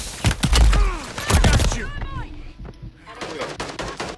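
Gunfire in a video game: rapid bursts of automatic shots and a few heavier single reports, loud and close, mixed with players talking and the game's background noise.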